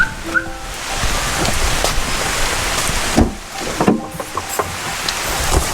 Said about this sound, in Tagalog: Kagaya nito, umuulan na.